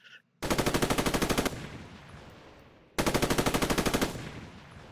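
Machine gun in a Roblox military sim firing two rapid bursts of about a dozen loud shots each, with echoing decay between them and a brief pause before the second burst.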